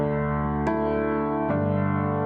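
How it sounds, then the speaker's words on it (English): A sustained piano chord rings out plainly with no echo or room tail, and new notes are struck twice along the way. "I'm gonna play our piano sound so we can hear the effect of the reverb"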